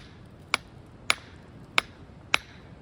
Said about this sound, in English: hammering away at a rock